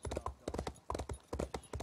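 Horse hooves clip-clopping in the video game The Elder Scrolls Online, a quick, regular rhythm of close, crisp hoofbeats in bursts, fairly quiet with no talk.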